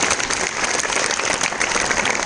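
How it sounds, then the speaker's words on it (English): Students in a school audience at a Children's Day quiz event applaud steadily throughout, a dense, even wash of many hands clapping close by, with no talk over it. "Please welcome them with a big hand of applause."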